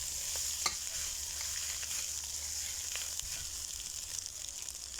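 Rice for nasi goreng fries in oil in a pan with a steady hiss, while a spatula scrapes and clicks now and then as the rice is stirred, close up and without talk.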